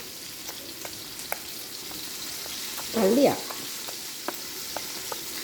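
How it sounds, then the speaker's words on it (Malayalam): Pomfret fish frying in a pan at lunchtime, a steady close sizzle with a short louder burst of spattering near the middle, under a brief spoken word. "ഇത് ആവോലി ഫ്രൈ കേട്ടോ."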